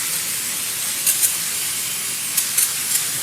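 An aerosol can hisses as cleaner is sprayed onto the front brake parts of an Equinox, a steady pressurized spray heard up close with a few short sharper bursts near the end.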